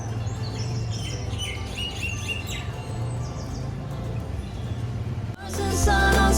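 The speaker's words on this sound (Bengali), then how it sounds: "পাখিদের ডাকও শোনা যায় এখান থেকে।" Birds chirp and call outdoors in the morning beyond an open window, with many small tweets layered over a steady low hum until a louder, different noise cuts in near the end.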